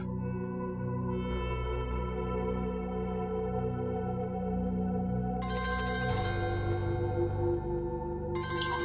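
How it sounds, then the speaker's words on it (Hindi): An electronic phone ringtone plays continuously, a bright melodic tone that shifts into a louder, busier pattern partway through. "फोन है।"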